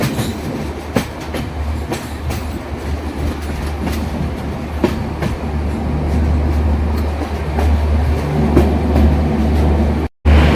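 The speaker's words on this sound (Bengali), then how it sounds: "নিউ ফরাক্কা জংশন রেল স্টেশনে প্রবেশ করছে তেভাগা এক্সপ্রেস।" The Balurghat–Kolkata Tebhaga Express, an LHB rake, rolls into New Farakka Junction with a steady low rumble and a rhythmic clickety-clack of wheels over rail joints, growing gradually louder.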